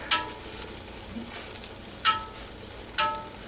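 Chicken wings shift inside a metal air fryer basket, giving three short scraping, rattling bursts over a steady low sizzle. Each burst is brief and close, with pauses between them.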